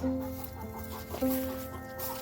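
Chickens clucking nearby, a couple of sustained, drawn-out clucks rising over a steady murmur of fowl in the background.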